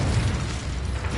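Incendio fire spell cast in the Hogwarts Legacy video game, a short muffled fiery burst with a low rumbling whoosh, dense and steady for a brief moment with no voice over it.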